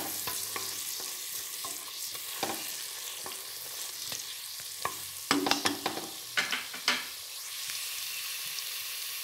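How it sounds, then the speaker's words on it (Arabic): Chicken pieces frying with chopped onion in a pan give a soft, even sizzle, joined by occasional clacks and scrapes of a stirring utensil that cluster into a louder flurry near the middle before settling back. "نخلي الدجاج يتقلى مليح. دوك نزيد معاه البصل"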